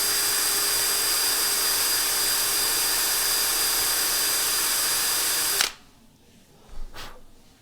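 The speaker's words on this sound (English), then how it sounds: "And then I just drill the top of the axle and round it over." A power drill bores into the top of a small die-cast axle on a Matchbox 63c Dodge Crane Truck model, a loud steady whine running for over five seconds before stopping abruptly, followed by a couple of faint clicks.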